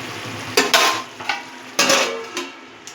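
Tomatoes and salt cooking over medium heat in a pan give off a soft sizzle, broken by a few scraping stirs and light clinks of a utensil against the cookware.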